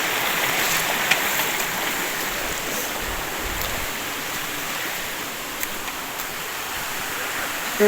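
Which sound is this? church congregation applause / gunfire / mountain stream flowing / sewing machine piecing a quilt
mountain stream flowing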